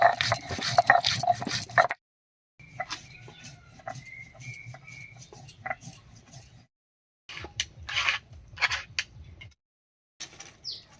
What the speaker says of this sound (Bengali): কয়েকটা শুকনো লঙ্কা আর কয়েকটা কাঁচা লঙ্কা একসঙ্গে করে বেটে নিচ্ছি